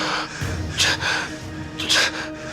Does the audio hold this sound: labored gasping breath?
yes